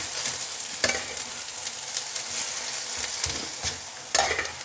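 Thai traditional fried rice with vegetables such as kale being stir-fried in a slightly burnt wok, giving a steady loud sizzle with periodic scraping clatters of the spatula against the pan.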